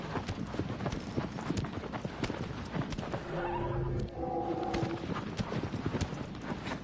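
Rapid hoofbeats of a horse galloping across the desert in the video game Shadow of the Colossus (2018) drum steadily throughout, with a brief whinny partway through, all fairly faint and continuous.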